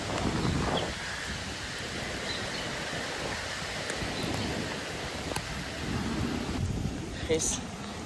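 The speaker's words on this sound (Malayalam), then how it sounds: "നല്ല മഴ പെരും heavy rain guys heavy rain പെരും മഴ" Heavy rain pouring down during an evening cycle ride outdoors, a dense, loud broadband wash with wind buffeting the microphone and a few brief knocks, steady throughout.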